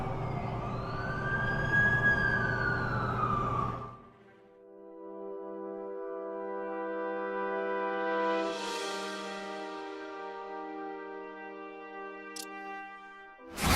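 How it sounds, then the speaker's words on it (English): An ambulance siren in The Amazing Spider-Man 2 game wails loudly for the first few seconds, then gives way to steady sustained tones that hold to the end. "That's the ambulance I called."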